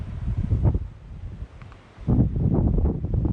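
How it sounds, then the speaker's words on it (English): Gusty wind in Norway blustering across the microphone in rough surges, dropping briefly before a strong gust returns. "There's some very fierceful gusts of wind."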